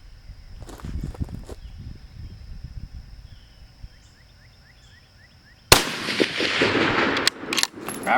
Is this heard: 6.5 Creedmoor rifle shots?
yes